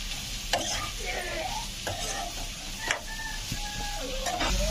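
A carrot stir-fry seasoned with salt is stirred in a pan, a soft sizzle under irregular scraping and clinking strokes of a spatula, up close, with no one speaking.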